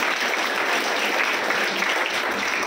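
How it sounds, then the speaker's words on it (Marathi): Audience at a school event clapping loudly and steadily throughout, a dense, sustained burst of applause with no pauses. "तुम्हाला सर्वांना जोरदार एकदा टाळ्या वाजवायला सांगितलं"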